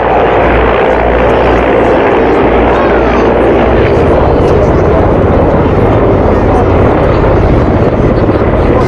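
Loud, close military helicopter with an X-shaped tail rotor and all-metal blades, giving a steady dense roar of engine and rotor throughout.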